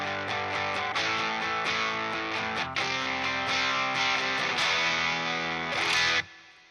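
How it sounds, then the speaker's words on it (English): Strummed electric guitar with heavy distortion playing power chords, a series of sustained crunchy chords, loud and close, ending with a final strum that cuts off abruptly. "how did I get that distortion sound?"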